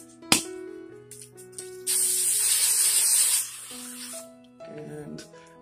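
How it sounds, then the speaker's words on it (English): Hairspray misted onto a short shaggy pixie cut with a heavy fringe: one sustained, bright aerosol hiss of about a second and a half, heard close up, with quieter handling sounds and tones around it. "And then I'm just gonna grab some hairspray."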